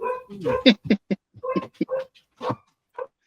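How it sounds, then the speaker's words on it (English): A standard poodle yips and barks in a quick series of short, sharp calls, fairly close, with whimpering tones between, and no talk over it. "That is a standard poodle."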